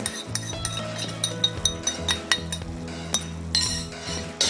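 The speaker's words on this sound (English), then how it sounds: "Let's give this a mix" Utensil clinking against a pot while stirring seafood boil sauce mixture, with repeated metallic chinks and scrapes over a low steady cooking rumble, close and moderately loud.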